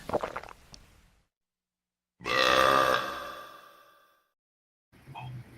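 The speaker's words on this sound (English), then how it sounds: "How did you get her on camera burping?" A woman lets out a long, loud burp after downing a beer, preceded by a brief rough noise and followed by a faint sound after a pause.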